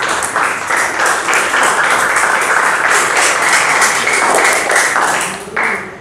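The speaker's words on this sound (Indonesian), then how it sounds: "tepuk tangan untuk Fiona dan kelompok yang berhasil." A group applauds during an online class, a steady, dense patter of clapping that runs loud and close for several seconds before tapering off.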